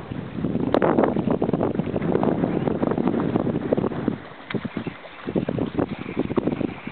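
Steady, loud wind buffets the microphone in rough gusts on a lake in the morning, with a brief lull near the end, outdoors with no voices.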